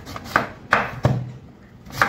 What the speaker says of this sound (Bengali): এরকম টুকরো টুকরো করে কেটে নিচ্ছি